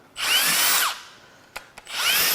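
A power tool spins out valve cover bolts on a 2014–2019 Jeep 3.0 EcoDiesel engine, with two loud whirring bursts separated by a quieter pause and a couple of sharp clicks, heard close up.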